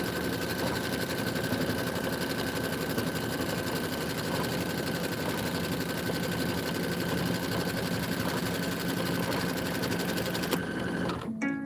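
A longarm quilting machine stitches a border, a loud, steady mechanical hum and rapid needle chatter running continuously before stopping abruptly near the end, with no talk.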